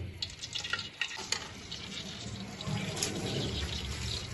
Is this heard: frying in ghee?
yes